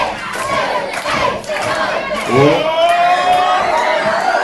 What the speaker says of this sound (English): the crowd are going wild for a series of strikes